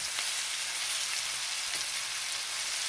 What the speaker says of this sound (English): they will still caramelize the onions and the peppers, but that way the mushrooms will also cook until they're well done